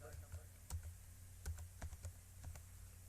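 An ID card number being typed on a computer keyboard for an online registration form: a dozen or so quiet, irregular key clicks, some in quick pairs, close and faint against low background hum.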